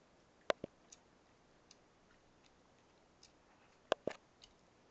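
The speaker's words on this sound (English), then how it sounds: "What you chewing? Bubble gum." Bubble gum being chewed close up, with a few sharp, faint wet clicks and smacks spread sparsely over otherwise quiet air, no talking.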